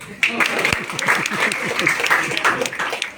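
An audience at a public Eid-day meetup claps together in brisk, dense applause. It carries on steadily for a few seconds with voices talking over it.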